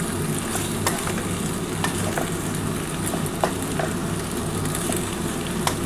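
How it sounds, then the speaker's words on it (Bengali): Masala pasta with egg, Maggi masala and ground black pepper being stirred in a hot pan: a loud, continuous sizzle with scraping strokes and small clicks, close up with no voices. "এবার ভালো করে একটু নাড়াচাড়া করে নিচ্ছি"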